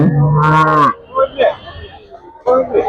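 At the Chattiparamba cattle market, a dairy cow lets out one loud, drawn-out moo close by, followed by nearby talking and market noise.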